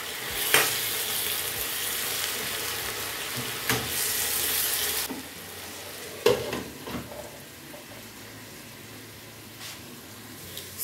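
Onions fry in a pan under a constant sizzle while being turned, with scraping stirs and a few clattering knocks, the sizzle dropping partway through, with no voices.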